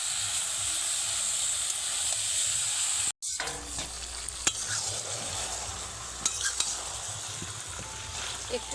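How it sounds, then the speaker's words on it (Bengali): Chicken frying in spice paste in a covered pan, steady close sizzling and hiss with a brief cutoff, then scattered clinks and scrapes of stirring over the continuing sizzle. "এরকমভাবে বেশ কিছুক্ষণ ধরে মাংসটাকে কষে নিতে হবে।"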